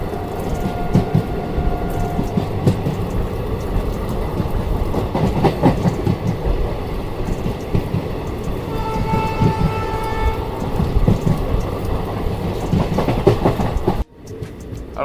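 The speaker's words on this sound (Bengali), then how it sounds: "আমরা এখন স্কিপ করছি বঙাইগাঁও রেলওয়ে স্টেশন" The Kanchanjunga Express runs through Bongaigaon station, heard from on board as a loud, steady rumble with rhythmic clickety-clack of wheels on rail joints and a faint horn.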